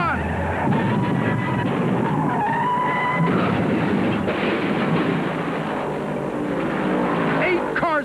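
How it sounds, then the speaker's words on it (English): Stock cars crash and skid in turn 1 at Darlington during the 1972 NASCAR Winston Cup Southern 500, engines roaring and tires squealing in overlapping bursts against a constant race din, with a commentator talking over it. "There's a crash in turn 1."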